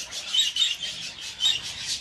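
Small birds in a backyard aviary of cages facing east, chirping in repeated high, bright bursts, fairly close and without talk.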